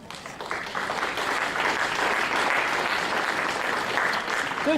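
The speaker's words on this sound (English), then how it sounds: "How about a round of applause?" A round of applause at a dinner gathering dedicated to Brian, swelling quickly and holding as a steady crowd clapping throughout.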